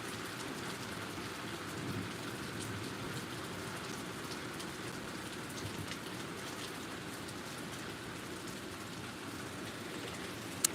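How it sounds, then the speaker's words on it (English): Steady rain falls outdoors at night in Alaska, a continuous, even hiss with occasional louder drops, faint and unbroken throughout, with no talking. "Can you guys even see the rain?"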